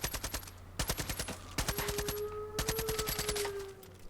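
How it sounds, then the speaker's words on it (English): Several bursts of rapid automatic gunfire in an outdoor area of a Far Cry 5 custom map rattle out in quick succession, with short pauses between volleys and a faint steady tone underneath. "you kind of have your usual gunfire sound in the outside environment"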